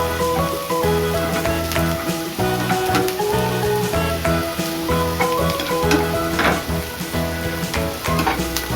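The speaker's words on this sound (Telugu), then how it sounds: "ఇలా ఎర్రగా అయ్యేంత వరకు ఫ్రై చేసుకోవాలి." Cabbage and egg fry in a pan with a dense, continuous sizzle and crackle, punctuated by the scrape and clatter of stirring, close and loud with no talking.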